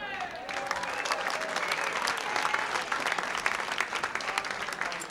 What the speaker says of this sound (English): Give it up for Garri Madera.